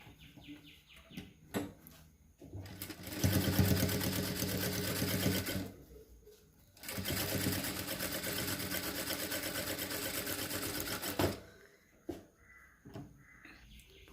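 A sewing machine stitches a quarter-inch seam on a blouse in two long, steady whirring runs separated by a short pause, close and fairly quiet, with faint background sounds between runs.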